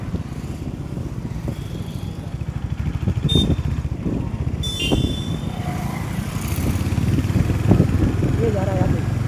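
A motorcycle engine drones steadily during a ride, a continuous mid-pitched buzz with wind noise, while someone talks over it.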